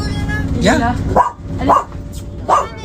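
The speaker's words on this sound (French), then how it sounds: "Oh, il y a tes chiens." A rescue dog barks about three times in short, sharp yaps close by, spaced at a steady rhythm while a person speaks French over and between the barks.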